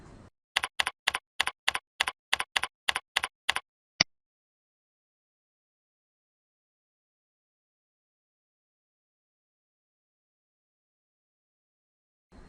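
A computer keyboard is typed on: about ten quick, crisp keystrokes in an even burst, one final click, then silence until a faint tap at the very end.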